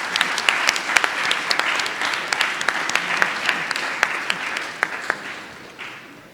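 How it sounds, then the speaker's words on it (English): An audience at a memorial lecture in Ghana applauding steadily, a dense patter of many hands clapping that tapers off toward the end. "A round of applause, please."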